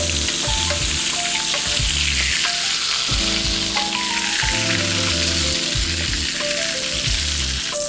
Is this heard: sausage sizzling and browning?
yes